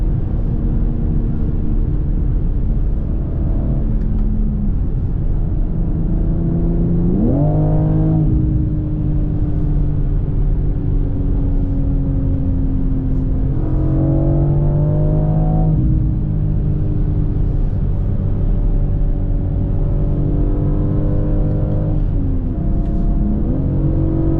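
A BMW M3 Touring Competition heard from inside the cabin as it drives and accelerates hard, its engine droning loudly and rising through several climbing revs with shifts between them, no talking.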